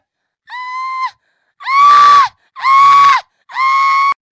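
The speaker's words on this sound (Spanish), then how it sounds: "Por ejemplo, estos sonidos de gritos" Four separate screaming sound effects from a sound library, each a loud, drawn-out, high-pitched cry with short silent gaps between them; the second and third sound harsher and more strained.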